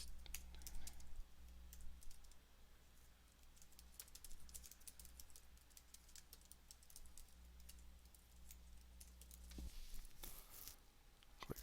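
Typing a page title on a computer keyboard, with rapid, irregular key clicks close by and quiet, the taps clustering in bursts over a low steady hum, with no talk.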